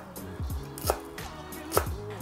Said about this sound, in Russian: Беру небольшой пучочек, мелко нарезаю, чтобы сверху покрыть рыбу для аромата.